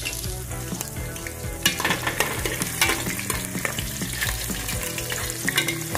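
Onions and garlic fry in a hot pan for hot sauce, a steady loud sizzle running throughout with occasional stirring clatter and bursts of crackle.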